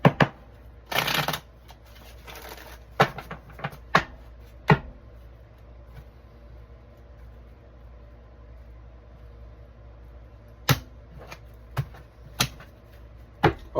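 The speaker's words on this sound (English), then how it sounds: "One more shuffle." A deck of tarot cards is shuffled by hand, close and crisp, in short separated bursts of riffling and slapping with quiet pauses between, clustered at the start and again near the end.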